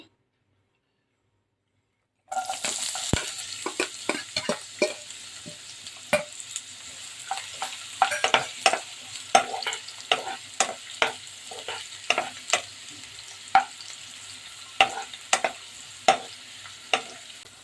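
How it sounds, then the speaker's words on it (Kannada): Finely chopped onions hit hot oil after a moment of silence, then fry with a continuous close sizzle broken by repeated sharp scrapes and taps of a spoon stirring them in the pan. "तेल गरम हो गया है यहां पर मैं बारीक कटी हुई प्याज डाल रही हूं"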